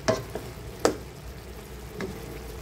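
Corn and carrots stir in a pan with a soft, faint sizzle, broken by a few quick scraping strokes of the utensil, heard close and with no talking.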